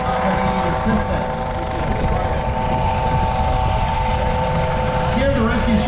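A Coast Guard rescue helicopter hovers low over water, its rotor and turbine roaring in a loud, continuous drone with steady tonal whine, while a person talks over the noise.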